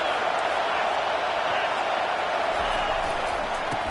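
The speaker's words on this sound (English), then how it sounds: "this crowd trying to help keep them there" Steady roar of a stadium crowd cheering at an American football game while the home team is pinned deep in its own end, a dense wash of voices throughout with a commentator talking over it.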